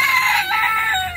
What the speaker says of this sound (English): Ang cute ng chicken na yun, Rayo.